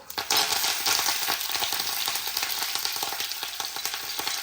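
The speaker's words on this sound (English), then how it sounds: "Now I'm going to add the green masala" Green masala and curry leaves hit hot oil in a pan with a loud burst of sizzling that settles into steady crackling and spitting frying, close up and with no talking.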